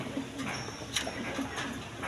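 A pair of Danish pigeons with three red bands coo softly and repeatedly at close range, low throaty calls in a short sequence.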